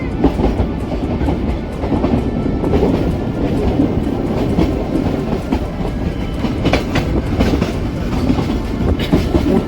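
The Ooty toy train on the Mettupalayam to Ooty line rolls along its rails with steady, loud rumbling and rhythmic wheel clatter close by, running continuously throughout.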